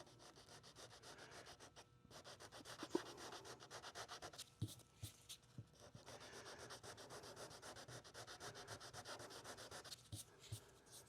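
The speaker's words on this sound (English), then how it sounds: "I don't want to finger sand that, so I've got my sanding block here." Sanding block rubbed back and forth over a scratch in the clear coat of a 1935 Packard's paint, giving a steady, quiet run of rasping strokes with a few sharper taps, no talking.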